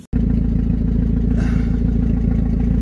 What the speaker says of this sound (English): the engine actually sounds quite good